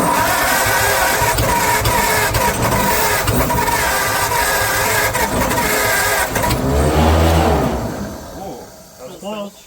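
A 1939 crane engine that sat unused for 50 years cranks with a loud, rapid mechanical chugging, then briefly catches and surges before spinning down into quiet, with people talking over it.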